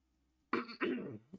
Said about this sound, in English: the cough is really bad